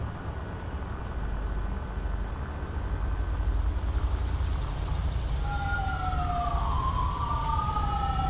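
An ambulance siren from GTA V roleplay wails faintly in the distance behind a steady rumble of traffic and engine noise, with its rising and falling tone coming in over the last few seconds.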